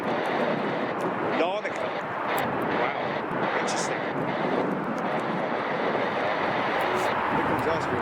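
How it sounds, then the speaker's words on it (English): An Austrian Airlines Boeing 767 jet approaching O'Hare airport, its broad engine roar filling the scene steadily and loudly, with wind buffeting and someone talking over it throughout. "here comes that Austrian 767, folks"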